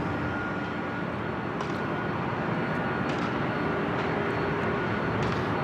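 A Delta Boeing 767-300ER taxiing toward runway 24 left at LAX, bound for JFK, hums with a steady, even engine rumble from a moderate distance across a few seconds.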